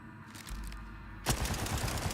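A Vladof gun in the Borderlands 4 video game fires a rapid automatic burst after a low rumble, a dense, loud stream of shots lasting about a second.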